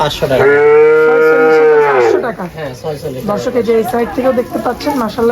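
A young cross-breed bull calf at a livestock sale moos once, long and loud and close by, its drawn-out call breaking off into a rougher bellow. Someone talks over the end of it.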